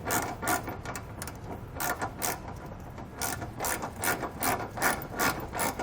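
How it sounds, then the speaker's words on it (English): Ratchet with a 19mm socket snugging down trailer hitch bolts on a 2021 Mazda CX-5, a steady run of quick repeated clicks at moderate distance, continuous throughout with no talk. "we just want to grab a 19mm socket and get these snug down"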